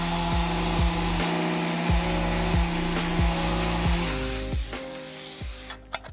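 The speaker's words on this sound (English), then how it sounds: "I'll sand it down real quick." Dried CA glue on wood is sanded with a power sander, a loud steady whir with regular rhythmic passes, close and alone, tapering off at the end.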